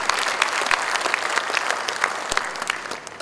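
A large audience at the opening of the Asia Africa Smart City Summit 2015 in Bandung applauds, a dense, sustained wash of clapping from many hands, loud and even, with occasional sharper claps.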